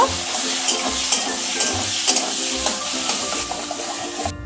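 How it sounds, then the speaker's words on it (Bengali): Ginger, garlic and chilli sizzle in oil in a pan for a Bengali tomato rui fish curry, a continuous bright hiss broken by regular stirring scrapes and light clinks, with no talking. "আদা রসুনও দিয়ে দিলাম, একটু ভেজে নেব"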